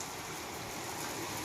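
A downpour of heavy rain makes an even, rushing wash of sound, loud and unbroken throughout, with no talk.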